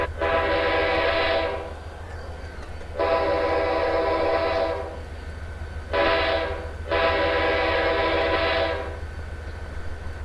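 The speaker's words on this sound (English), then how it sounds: "The air horn's not too bad." A diesel locomotive's air horn in Train Simulator Classic on the Arizona Divide route, with an SD40 nearby, blows four loud sustained blasts: two long ones, a short one, then another long one, over a steady low engine rumble.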